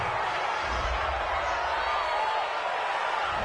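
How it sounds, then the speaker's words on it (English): A stadium crowd in a Madden 20 NFL game reacts to a penalty call with a steady, dense roar of jeers and noise that holds evenly across the moment, heard as a broad wash with no single voice standing out. "this crowd does not like that call"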